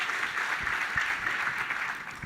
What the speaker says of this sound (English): a little round of applause for the team